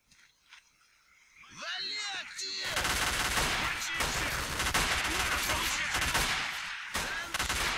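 A gunfight in S.T.A.L.K.E.R. Call of Pripyat Misery 2.0: after a quieter opening with voices, dense sustained automatic gunfire bursts erupt and continue loudly for several seconds.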